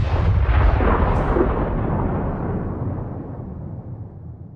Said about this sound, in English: A HIMARS missile flies through the roof and hits Russian Grad.